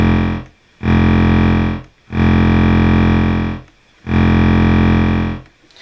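A Realistic/Moog MG-1 analog synthesizer oscillator drones loudly with a buzzy, harmonically dense tone, cutting in and out in three long sustained blocks as the mixer controls are moved.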